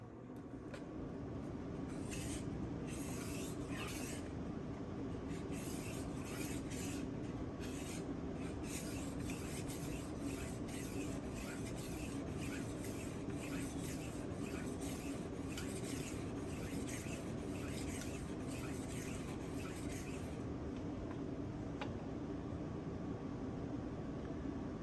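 A knife edge rasps in steady light back-and-forth strokes across a SharpWorx Master 2 1K-grit sharpening stone, a continuous close scraping with rhythmic pulses and no talk.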